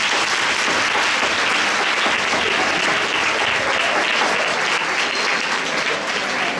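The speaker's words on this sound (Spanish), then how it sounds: "os voy a pedir un fuerte aplauso para vosotros mismos" A loud, sustained round of applause from a large crowd at a municipal short-film contest presentation, dense continuous clapping filling the room without a break.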